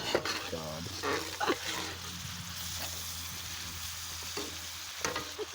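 Garden vegetables stir frying in a pan over a camp stove outdoors, a steady close sizzle with stirring scrapes and clatter running throughout, brief voices in the first seconds.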